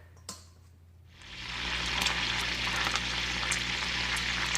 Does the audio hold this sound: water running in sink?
yes